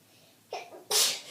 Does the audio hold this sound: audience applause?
no